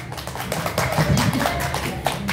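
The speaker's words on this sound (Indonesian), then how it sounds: "Tepuk tangan dulu dong." Scattered clapping from a small audience, light and uneven, with some murmuring voices underneath.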